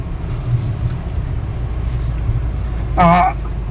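Car pulling in to park at a CNG station, a steady low engine hum and road rumble throughout with a short tonal squeal near the end, under someone talking.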